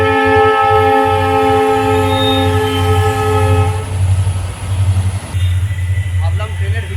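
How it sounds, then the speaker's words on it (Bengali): Freight trains rumble past on the rail lines beside a roadside snack stall, a loud, steady low roar with long sustained horn-like tones for the first few seconds, then continuous rolling noise and wheel clatter. "ওই পারের লাইনেও মালগাড়ি, এই পারের লাইনেও মালগাড়ি"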